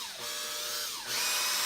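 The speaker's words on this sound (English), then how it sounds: "The other end is just put into a drill" Power drill spinning a cloth soaked in Brasso polish through an airsoft gun barrel, a close whining motor that dips in pitch under load, then rises again as it speeds up.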